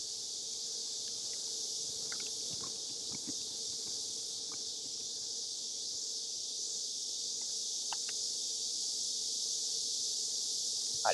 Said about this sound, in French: Ah les cigales, ils sont réveillés.